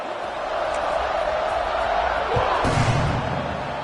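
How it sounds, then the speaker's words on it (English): Stadium crowd in a college football video game, a steady loud roar of cheering that builds into a surge near the end, with no talk over it. "this crowd now ready to get behind them"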